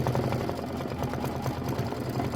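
An embroidery machine sewing a satin stitch on a mini quilt block, with a rapid, even mechanical chatter that runs close and continuous with no voices.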